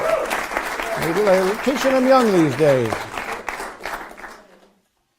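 Audience applause for a magician's assistant during a live stage magic act, steady clapping under someone talking over it, then fading out near the end.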